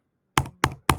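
Three crisp, evenly spaced taps on a computer keyboard, close and fairly quiet, as a zip code is keyed in, after a short silence and with no speech.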